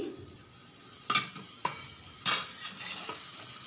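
Liver pieces and onions are stirred in a sizzling pan, with a few sharp scrapes and clinks of a utensil against the pan over a soft steady frying hiss and no talking.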